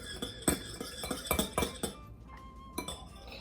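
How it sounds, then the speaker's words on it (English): A whisk beats a homemade Play-Doh mixture in a bowl, sounding as a quick run of about eight bright clinks against the bowl. A short pause follows, then one last clink, all close and fairly quiet. "now let's mix it up with the whisk"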